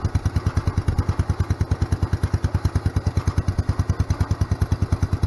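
A 10 horsepower Kohler K241 small engine idles steadily up close, its even, rapid thumping pulse holding a smooth, unbroken rhythm with no missed beats throughout.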